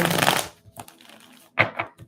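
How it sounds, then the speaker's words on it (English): Tarot cards being shuffled by hand, a dense papery riffle and rustle up front followed by scattered soft slaps and taps as the deck is handled, close and fairly quiet. "let's just keep shuffling"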